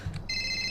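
Cellphone ringtone in FiveM, the online Grand Theft Auto roleplay game, set in Los Santos: a steady electronic ring with bright tonal lines that starts partway in and holds loud to the end, after a brief low voice.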